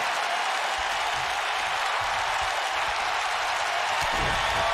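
Steady, dense crowd cheering and applause from a wrestling arena in the video game WWE 2K19, a continuous roar throughout a steel cage match.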